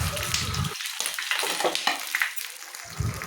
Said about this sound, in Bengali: এবার আমি এটা ঢেকে দিয়ে গ্যাসের ফ্লেমটা একেবারে লো করে আস্তে আস্তে এই জিনিসটা আমি ভাজা করব।